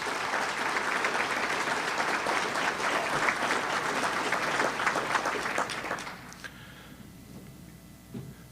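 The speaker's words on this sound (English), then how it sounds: "How about a round of applause for these directors?" Attendees at an annual meeting give a round of applause for board directors, steady mid-distance clapping from a room full of people that fades out after about six seconds, leaving a few stray claps and room noise.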